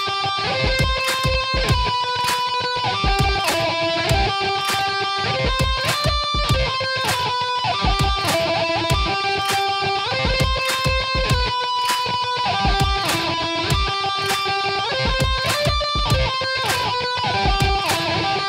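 Lead guitar run through a stock DAW amp-simulator preset in an emotional rock arrangement, playing a sustained legato melody over steady drums and backing, loud and continuous with no talking.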